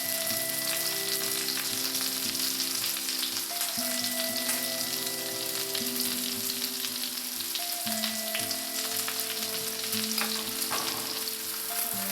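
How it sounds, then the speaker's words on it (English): Steak sears loudly in a hot pan with Kerrygold garlic and herb butter, a steady dense sizzle that runs without a break for the whole stretch, with no talking. "we have a beautiful sear on that side, so I'm flipping it over for 2 minutes on this side."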